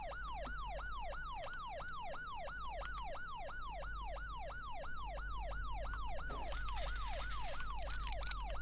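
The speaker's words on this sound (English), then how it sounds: "I'm going to kill my siren here." A wailing Virginia State Police car siren sweeps up and down in steady, rapid cycles, loud and close, over a low engine rumble.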